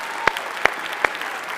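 A few sharp, separate claps ring out in a school board meeting room, three distinct hand claps spaced evenly over a low murmur of room noise.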